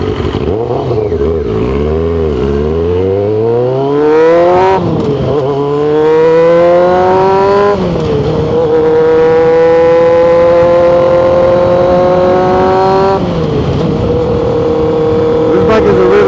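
A retro-styled Kawasaki Ninja ZX6R ridden through traffic on the way to work, its engine loud and close, revving hard through repeated rising pitch sweeps with gear changes between them, nearly continuous for the whole stretch.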